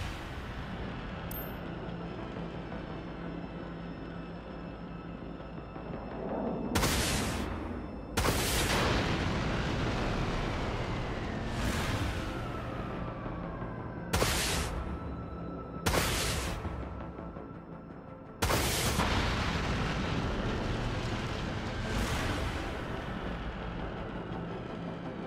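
Flak turret fire and explosions from a warship in the video game Dreadnought: a steady low engine drone broken by a series of loud, sharp broadband blasts, about six, each followed by a short decaying boom.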